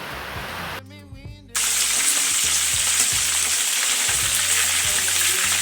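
Fish sizzling steadily in a pan on a gas stove, a loud continuous hiss that kicks in after a brief quieter moment and holds without pause, with a low rumble underneath.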